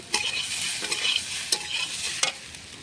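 Taro corms sizzle and fry in a pan while being stirred, with a steady bright hiss broken by several sharp scraping clacks of the spoon against the pan, close and alone.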